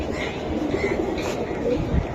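Pigeons coo softly amid the steady crowd noise of a busy pigeon market, with several voices talking throughout and low murmuring coos surfacing now and then.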